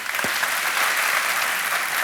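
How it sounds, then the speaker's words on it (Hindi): Studio audience on the Kaun Banega Crorepati quiz show applauding a contestant, a steady, even wash of clapping throughout with no voices over it. "तालियां बज जाएं इनके लिए।"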